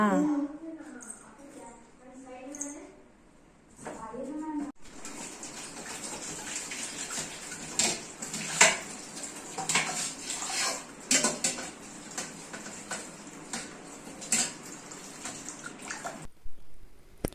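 Voices talk briefly, then a tap runs steadily while dishes clink and rattle under the flowing water, stopping abruptly near the end.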